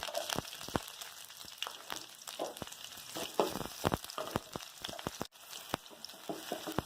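Chopped onion fries in oil in a pan, a low steady sizzle punctuated by frequent crisp pops and crackles and occasional stirring, fairly quiet and close.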